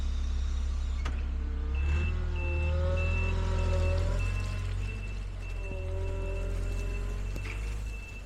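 A lorry reversing sounds its backup alarm, a steady series of evenly spaced, piercing beeps over a loud, low engine rumble, with some faint voices in the background.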